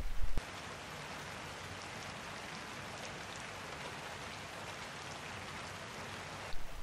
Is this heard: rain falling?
yes